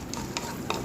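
Split cashews and whole black peppercorns fry in hot oil in a pan, giving a steady soft sizzle with a few small crackles and stirring scrapes close by. No one talks.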